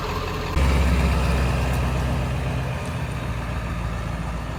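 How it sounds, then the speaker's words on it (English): A Ford 7.3 Powerstroke diesel engine in an OBS pickup truck idles with a steady low rumble, then grows louder and holds a constant chugging drone nearby. "take Frank for a spin. I think it's a diesel."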